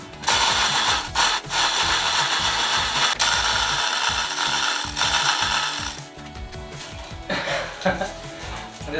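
Manual hand winch hoisting a roof top tent, with a dense run of close, loud ratcheting clicks from the pawl and gears that pauses briefly near the end before resuming, with faint voices at times.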